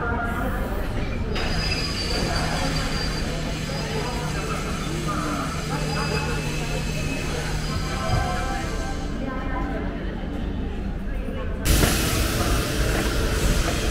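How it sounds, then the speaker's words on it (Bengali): Kumbh Express pulling out of Prayagraj station, a continuous loud rumble of rolling railway cars with steady broadband noise and faint wheel squeal, while voices talk intermittently over it and a sharp burst of louder noise arrives near the end. "নটা 15 প্রয়াগরাজ স্টেশন ছেড়ে বেরোচ্ছে আমাদের ট্রেন কুম্ভ এক্সপ্রেস"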